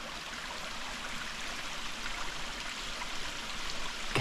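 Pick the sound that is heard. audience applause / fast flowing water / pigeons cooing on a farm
fast flowing water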